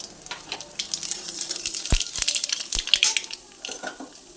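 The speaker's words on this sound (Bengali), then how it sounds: "তেলটা ভালোভাবে গরম হয়ে গেছে। এবার আমি দিয়ে দিচ্ছি একটা শুকনো লঙ্কা আর 1 চামচ কালো জিরে।" Dried red chilli and a spoonful of black cumin (kalo jeere) crackle in hot mustard oil, a dense close sizzle with sharp pops and spits scattered throughout, no voices.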